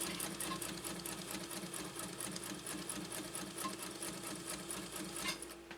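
A Japanese Viscount Model 929 sewing machine stitches through genuine cowhide leather, giving a steady, fast mechanical whir with a regular needle rhythm. It runs alone, close and continuous.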